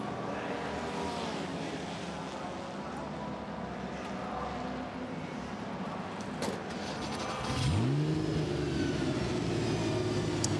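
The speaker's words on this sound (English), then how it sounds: "Engine fired up, driver change effected for the number 74 Maserati crew." A Maserati race car engine fires up at a pit stop during a historic Le Mans Classic race, its rising tonal growl emerging late from a dense wash of circuit noise and passing traffic.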